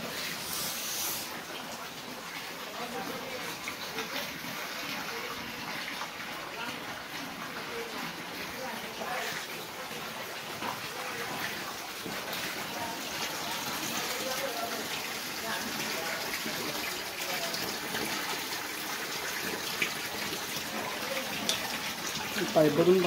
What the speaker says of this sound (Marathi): पाईपमधून पाणी खाली येतं